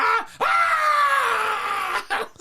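A man imitates his own excited screaming: one long, loud, strained yell lasting about two seconds, set off by a short vocal burst before it and another after it.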